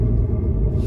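Ford Mustang Mach 1 engine giving a brief, deep, steady rumble heard nearby on a street, low and continuous without speech.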